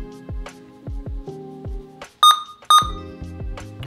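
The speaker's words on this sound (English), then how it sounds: "Okay, so you heard a beep there," Two sharp electronic beeps from a Chromebook entering developer mode sound in quick succession over a rhythmic pattern of low synthesized tones.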